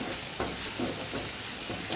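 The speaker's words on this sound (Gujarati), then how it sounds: "સરસ આપણે સાતડી લેવાનું છે મસાલાને" Spice masala of red chili powder, turmeric and coriander-cumin powder sautés in a pan for Rajasthani panchratna dal. A close, steady sizzle carries irregular stirring scrapes throughout, with no talking.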